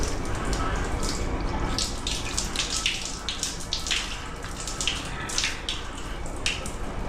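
Water runs from a tap in a steady splashing stream, with irregular bursts of spatter as it hits a basin, fairly close.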